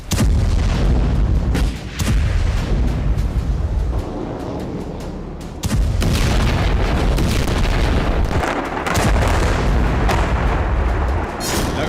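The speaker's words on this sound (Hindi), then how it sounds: "लगातार धमाके और मलबों में तब्दील होती इमारतें।" Heavy bombing and artillery fire in the Israel–Hamas conflict: repeated deep, loud booms and blasts rumble one after another with brief lulls between, dense and close.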